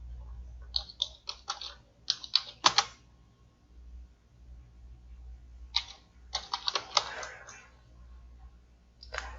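A computer keyboard is typed on in two bursts of quick, crisp key clicks with a quiet pause between them, fairly close, plus a few lone taps near the end.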